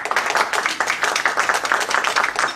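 A crowd claps steadily, dense overlapping applause throughout, moderately loud with no talking over it.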